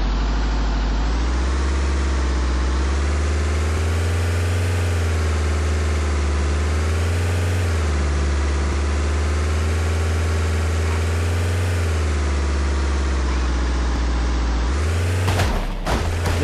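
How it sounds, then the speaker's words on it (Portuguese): A car engine running in the survival game VEIN, a loud steady low idle drone that holds and rises slightly, ending with a few sharp knocks. "tem que ligar o carro aqui, mano"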